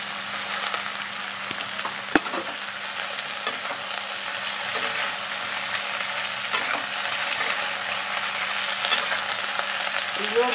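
Cauliflower stems and broad beans fry in a pan with a steady, close sizzle, broken by occasional clicks and scrapes as they are stirred.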